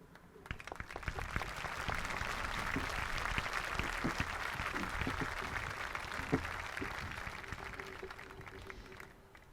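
Audience applause at a senior awards ceremony, a sustained round of dense clapping from a fairly large crowd that rises and holds for several seconds, with some murmuring mixed in.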